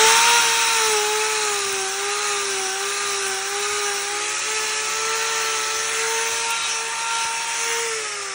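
Power tool grinding down a Brown Swiss cow's hoof during a trim, a steady high-pitched whine with a sustained tone running continuously and fairly loud throughout, no voices over it.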